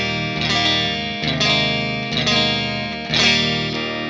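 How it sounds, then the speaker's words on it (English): Electric guitar through a JHS 3 Series Harmonic Trem pedal, sustained chords with a pulsing, wavering tremolo, struck several times, close and steady without talk. "we're going to listen to the harmonic tremolo on its own"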